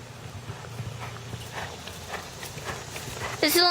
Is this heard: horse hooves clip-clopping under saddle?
yes